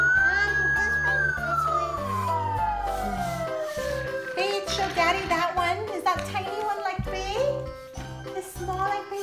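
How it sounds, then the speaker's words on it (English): A small electronic toy police car siren wails with a falling tone, then bleeps in short repeating bursts while a voice chatters over it. "That sounds just like a real police car"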